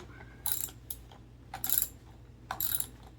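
A wrench loosening the bolt on a Bowflex 552 Series 2 adjustable dumbbell, three or four short, close ratcheting clicks in quick bursts over a low background hum.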